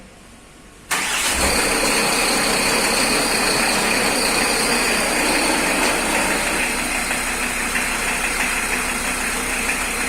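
A 2.4-litre five-cylinder Volkswagen Transporter T4 engine cranks and fires after a second of quiet, then runs at a steady, loud idle close by for the rest of the clip.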